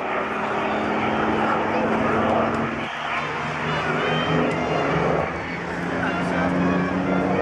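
A Sea Fury warbird flying at the Bournemouth Airshow, its loud, continuous piston-engine roar filling the air with a brief dip midway, while a commentator talks over it.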